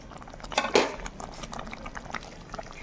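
A tamarind mixture for temple-style pulihora bubbling in a pot, with soft irregular pops and gurgles, a couple of sharper splashy bursts early, fairly quiet and close.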